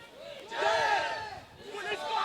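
A large protest crowd at Jantar Mantar, Delhi, roaring and chanting together in a loud, sustained swell of many voices, with a brief dip before rising again.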